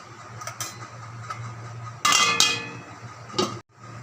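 A metal lid clanks onto a cooking pot of fish curry, a bright ringing clatter in the middle after some quieter kitchen clinks, then a final tap and silence.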